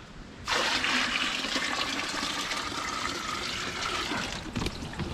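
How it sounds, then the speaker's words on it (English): Hot water rushes steadily into a plastic bucket outdoors in the Yukon wilderness, a loud, continuous splashing pour that starts abruptly and runs for several seconds. "hot water goes in"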